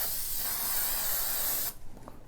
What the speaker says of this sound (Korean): 그 다음에 스프레이 풀을 한 번 더 뿌려줍니다